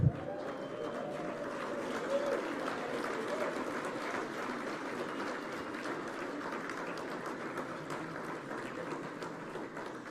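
A large crowd of men at a Commonwealth women's forum in Kigali cheers and claps loudly, a dense, steady roar of voices and applause holding for about ten seconds.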